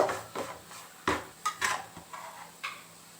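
Metal spoon scraping and clinking in a pan as masala spices are stirred into fried onions, a series of close, moderately loud scrapes and taps with brief pauses.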